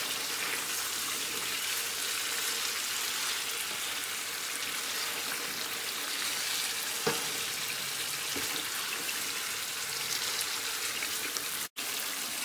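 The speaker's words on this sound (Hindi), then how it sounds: "सिक्स से 8 मिनट हो गए भूनते हुए। हमारा चिकन बहुत अच्छी तरह से भुन गया है" Chicken korma frying in oil in a pot while being stirred gently, a continuous even hiss with a few soft knocks and one brief dropout near the end, close and steady, with no talking.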